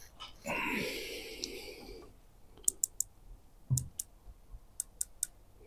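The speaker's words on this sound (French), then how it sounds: "je vais mettre 8 clics sur la droite" The adjustment turret of a CVlife Jackalhowl 2MOA red dot sight gives a series of small, sharp, evenly spaced clicks close up. Breathy handling noise comes first, then the clicks ring out individually against a quiet background.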